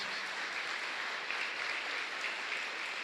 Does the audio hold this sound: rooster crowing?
no